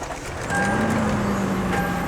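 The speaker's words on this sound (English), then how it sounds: "Let's go ahead and start our vehicle." A Lexus GX460 engine turns over and catches after a brief quiet moment, settling into a steady close idle with faint chime-like tones over it.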